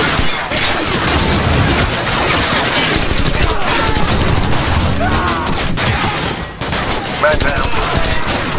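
Dense covering gunfire from automatic weapons roars without pause in the Call of Duty 4: Modern Warfare video game, loud and close, with voices mixed into the din.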